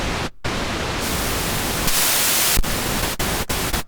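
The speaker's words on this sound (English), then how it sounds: "pink noise." Steady broadband hiss of pink noise from a Behringer Kobol Expander synthesizer filling the spectrum, with a brighter wash midway and a few brief dropouts near the end.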